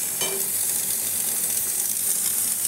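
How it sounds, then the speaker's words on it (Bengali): Paneer curry frying in a pan in a home kitchen, a steady close sizzle with light stirring, alone and without talk. "এখন আমার পনির তরকারি হচ্ছে, পনির দিয়ে গেল দেরি করে, এখন রান্না করছি।"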